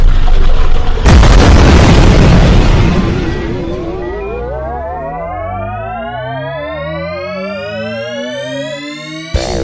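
Sci-fi radio drama effect of a spaceship firing its weapons: a loud booming blast, then warbling, rising and descending electronic tones with rhythmic pulsing that slowly fade, no voices.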